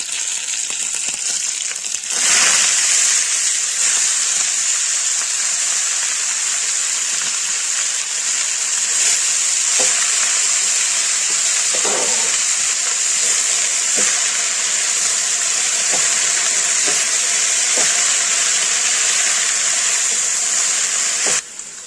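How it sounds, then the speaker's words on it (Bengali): Punka greens fry with mustard seeds and green chilli in a pan, a constant bright sizzle with scattered pops and crackles throughout. "শাকে সর্ষে ফোড়ন ভালো লাগে কাঁচা লঙ্কা আর সর্ষে ফোড়ন ফুটে গেলে শাকটা দিয়ে দেবো"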